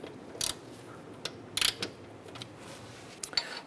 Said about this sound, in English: just snug it down a little bit